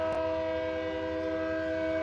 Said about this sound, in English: Got a train going by if you can hear that.